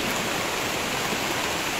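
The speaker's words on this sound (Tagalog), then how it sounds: "malaki na yung tubig sa sapa" A swollen creek rushes past in a steady, dense roar of flowing water, close and unbroken, with no voices over it.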